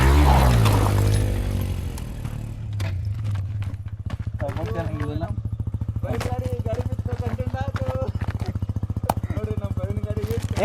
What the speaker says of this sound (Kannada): ಇಂಜಿನ್ ಆಫ್ ಮಾಡು.